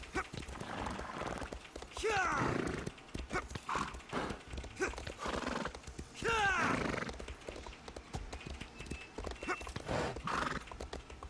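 A horse in a fantasy video game whinnies twice with loud, shrill neighs and its hooves clip-clop steadily on the ground. A faint voice and dog-like sounds sit in the background.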